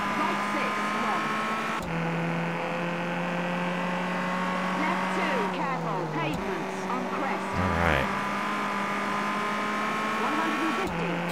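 A Citroen C2 rally car's engine is over-revved on a gravel stage in WRC on PS3, a loud sustained whine that holds high and dips with gear changes, with a voice talking over it.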